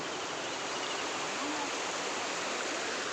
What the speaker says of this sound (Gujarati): આવું છે કંઈક અમારા ગામની નદીનું લોકેશન